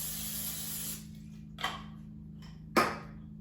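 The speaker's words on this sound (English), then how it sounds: "I'm going to spray the pan with a non-stick cooking spray" Non-stick cooking spray hisses onto an air fryer pan in a close, breathy burst lasting about a second, followed by two short sharp spritzes over a faint steady hum.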